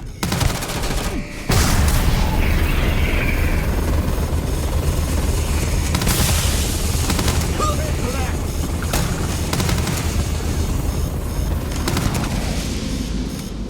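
Repeated gunfire from a weapon in the video game Starfield, a loud, sustained burst of shots with rumbling game ambience running through the whole stretch.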